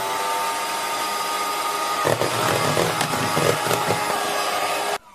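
An electric mixer whirs steadily while beating egg whites with sugar added gradually, a loud close motor drone that grows busier midway and then cuts off abruptly at the end.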